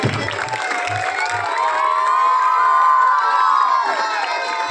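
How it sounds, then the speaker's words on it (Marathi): A crowd at a school headmaster's retirement ceremony cheers and shouts, with children's voices whooping over a continuous loud roar that swells and holds throughout. "जोरदार टाळ्या होऊन जाऊ देत"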